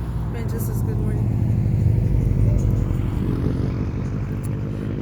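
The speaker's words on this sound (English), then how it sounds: "I don't know what car that is. Other than a loud one." A loud car passes on a road during a morning walk, a steady low engine rumble that swells and holds for several seconds before easing off, with a voice talking over it.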